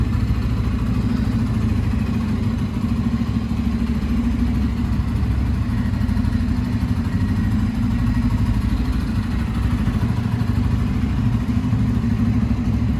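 A motorcycle engine running steadily during a riding lesson in Istanbul, a continuous low rumbling drone with mechanical clatter, close and even throughout.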